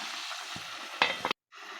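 Chicken frying in hot oil in a covered pan: a steady close sizzle, a couple of sharp stirring clatters, then a brief drop to silence before the frying hiss returns.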